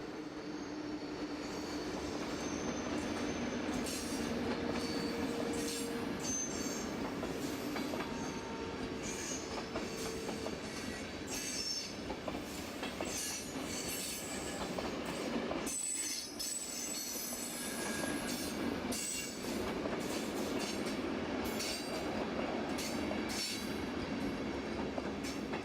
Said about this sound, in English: This is the real thing arriving at Innsbruck, having just passed over the Arlberg mountain railway, hence 2 Taurus locomotives at the head end.